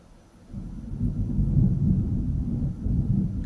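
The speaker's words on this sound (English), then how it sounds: "I heard the thunder just now." Deep, rolling thunder rumbles in after a brief quiet moment and keeps grumbling steadily, low and heavy, with no voices.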